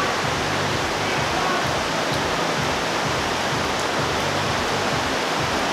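Rain falling at night during stormy weather, a dense, steady hiss of water that stays constant and fairly loud, with no voices.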